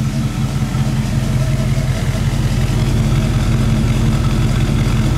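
The engine of a 1949 Cadillac Series 62 convertible idles indoors, a loud, smooth, steady low rumble that holds constant throughout, close by and with no talk over it.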